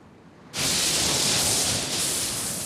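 Calm sea off Siberia on a flat, windless day, a steady broad wash of surf noise that starts abruptly and holds evenly, close and fairly loud, with no voices.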